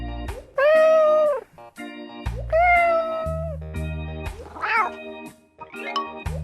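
A cartoon farm cat meows several times, two long clear meows followed by shorter ones, loud and close against a musical background.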